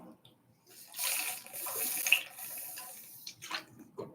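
Water runs from a tap into a sink in a steady rush that starts after a quiet second, with faint clinks and splashes near the end.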